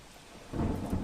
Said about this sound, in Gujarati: બાબરા પંથકમાં ધોધમાર વરસાદ વરસી રહ્યો છે